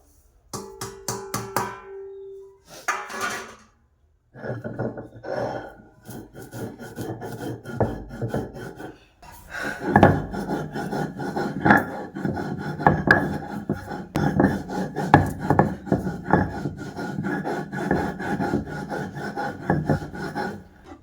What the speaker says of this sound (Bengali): এবার আমি শিলে একটু বেটে নেব